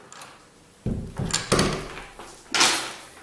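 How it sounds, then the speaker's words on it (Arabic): An indoor door pushed and closed in a few thuds and knocks over about two seconds, ending in a firmer shutting clunk, close and unaccompanied. "نجيبها الباب هكذا وراني غلقتها"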